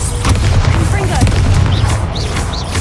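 Confringo fire spells from Hogwarts Legacy burst with low booming explosions during a cave fight, steady rumbling blasts layered with in-game voices.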